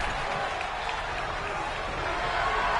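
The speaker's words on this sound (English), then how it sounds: "The sound of this crowd is saving us from having." A wrestling event crowd roars steadily in an arena, a dense continuous wall of cheering and clapping that stays loud throughout without breaks.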